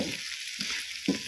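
Soft hiss and sizzle of liver frying in a pan, with a few gentle stirring scrapes rising briefly over the steady crackle.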